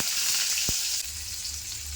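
Dried fish (karuvadu) frying in hot sesame oil in a pan, a steady loud hiss and sizzle throughout with one brief sharp pop, no talk.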